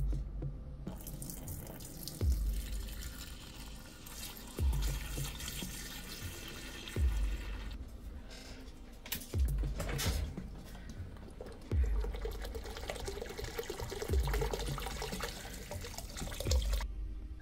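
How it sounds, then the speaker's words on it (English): A premixed isopropyl alcohol, concentrate and distilled water cleaning solution is poured into a Uniformation ultrasonic wash station tank, a continuous close splashing gurgle broken by several dull thuds and knocks. "I'm going to be putting it into the ultrasonic cleaner."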